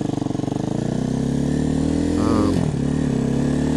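A 250cc motorcycle engine runs close by, its steady, throbbing idle rising slightly as the throttle is blipped, loud throughout the short stretch.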